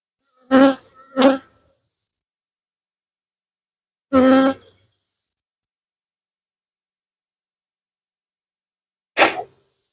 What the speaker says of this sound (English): let's see if we can get the other bees out.